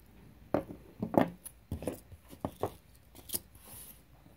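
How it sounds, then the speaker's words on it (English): Snips of a cutter or scissors through a thin necklace chain, several short sharp clicks in an irregular sequence, close and fairly quiet. "And let's cut that chain."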